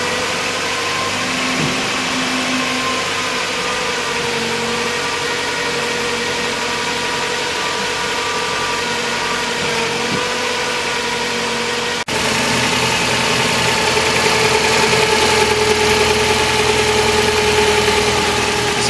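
Toyota Starlet EP91 engine idling steadily, close up, with a constant mid-pitched hum and faint vibration throughout, growing slightly louder partway through; no talking.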